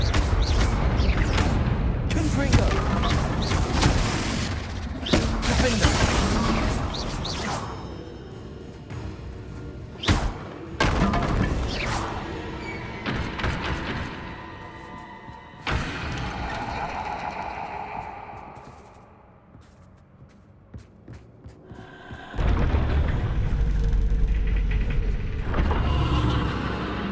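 Confringo fire spells in Hogwarts Legacy burst in a string of heavy booming explosions, loud and irregular amid combat noise, with quieter gaps between volleys.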